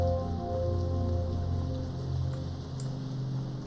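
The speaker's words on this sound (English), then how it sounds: "The rain, everything feels so calming" Steady, even rainfall patters across surfaces in the video game How We Know We're Alive, a continuous soft wash with faint low background music tones beneath and no voices.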